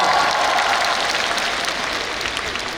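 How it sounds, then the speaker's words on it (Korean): A large festival audience at the opening film screening of the Busan International Film Festival claps in a dense, loud, continuous round of applause that slowly eases off. "여러분 박수 부탁드려요."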